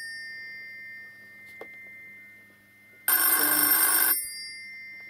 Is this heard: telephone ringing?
yes